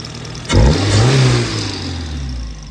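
Suzuki Samurai fitted with a swapped 1.6-liter 16-valve engine revs up sharply, holds a loud, rising mid-pitched roar for about a second, then settles back toward a steady idle, close by with no talk.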